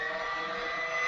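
Electric Harley-Davidson motorcycle running with a steady, smooth electric whir and high tonal whine, no combustion rumble, slightly swelling at the end.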